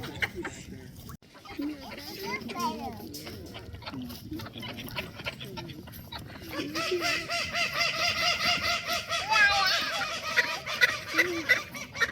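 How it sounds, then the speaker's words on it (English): Several ducks quack and honk close by in a donkey pen in a noisy, overlapping chorus, with other farmyard calls mixed in. "I have ducks in the donkey pen."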